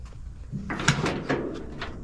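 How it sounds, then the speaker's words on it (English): The steel cab door of a 1953 Chevy 3100 five-window pickup swings and latches shut with a solid thunk close by in a shop, followed by a short metallic rattle. "This door closes good."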